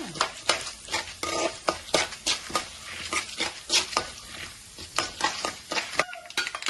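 Close, busy frying sizzle of lentils and spices in a pan, with frequent rhythmic scraping of a spoon against the pan, continuous throughout, no talking.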